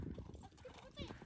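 Horse hooves clip-clop as the animal is ridden around a stable yard, a quick uneven patter of steps heard under nearly continuous talk.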